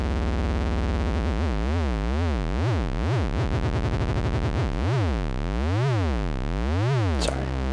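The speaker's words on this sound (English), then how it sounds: "So let's just get a square wave going." A Moog Mother-32 analog synthesizer sounds a steady, loud square-wave tone whose pitch sweeps up and down in repeated zigzag glides, ending with a brief noisy burst.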